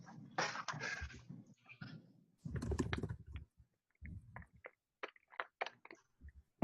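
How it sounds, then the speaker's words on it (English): Fingers tap on a computer keyboard in short, uneven bursts of sharp clicks, fairly close and quiet, with pauses between runs of keystrokes. "I'm typing."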